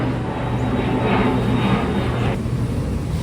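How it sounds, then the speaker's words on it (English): An airplane passing overhead produces a steady, broad roar that holds for a couple of seconds and then drops away abruptly. "I had to stop because there was a plane."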